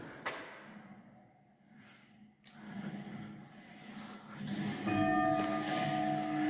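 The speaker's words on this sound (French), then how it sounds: "Et vous voyez, vous entendez la cloche." A bell hanging under a small wooden half-dome roof on a village square is rung by pulling its rope, giving loud ringing strikes whose tones swell and keep sustaining outdoors.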